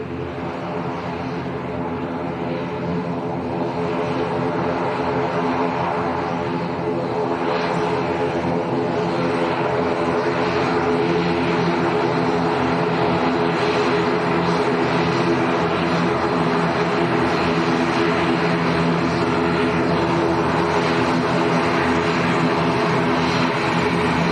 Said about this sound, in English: Right, we've got 2 aircraft at the same time.